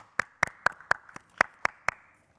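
Sparse applause for a comedian at a stand-up comedy competition audition, about eight distinct, evenly spaced claps from one or a few people, close and dry, with no talking.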